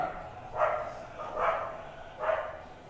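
A dog barks three times in distant, muffled, evenly spaced barks over a quiet background hum.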